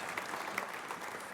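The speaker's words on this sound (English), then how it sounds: "I'll never get off if you keep applauding." Audience at an awards ceremony applauds steadily in a dense, continuous patter of clapping across the whole moment, fairly even in loudness with no voices on top.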